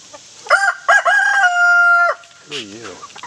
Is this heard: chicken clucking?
yes